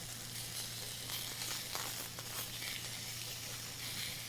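Chicken pieces sizzle steadily in a hot pan, a dense continuous hiss of frying with a faint low hum beneath and no voices.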